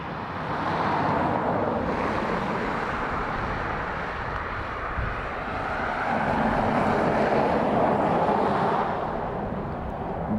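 A British Airways airliner arriving from Heathrow at Dublin Airport gives off a loud, broad jet roar that holds steady throughout, swelling slightly toward the end.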